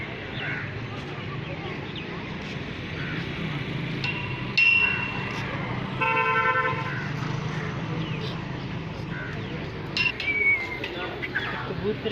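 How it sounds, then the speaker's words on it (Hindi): Pigeons coo at the Sufi shrine of Hazrat Sultan Bahoo, soft and low beneath a steady murmur of visitors talking in the open courtyard, with a few brief sharper tones passing through. "यहाँ जो कबूतर बैठे हैं ये भी अल्लाह का विरद करते हैं"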